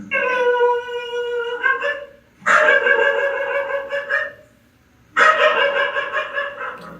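A dog barks from inside a closed room behind a gated boundary, three long, harmonic bark-like calls with short pauses, loud and close, with no talk over them.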